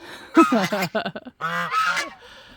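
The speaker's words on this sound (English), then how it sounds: "I love my silly geese" Pet geese honking loudly and close, several harsh rising calls in quick succession with a short pause before a second burst.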